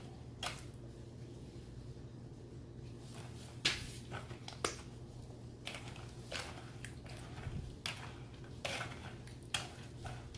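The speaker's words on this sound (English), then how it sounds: "I just want to give it a stir." A utensil stirs sugar and salt into cold process soap batter, giving soft clicks and taps against the container with a few sharper knocks, faint and close over a low steady hum.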